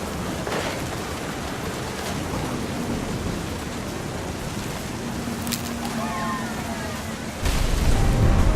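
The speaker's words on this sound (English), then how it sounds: "Thunder sounded much too close and full of angry power." Thunder and rain in the video game What Remains of Edith Finch: a steady hiss of rainfall runs throughout, with faint tones drifting over it and a deep, louder rumble of thunder swelling in near the end.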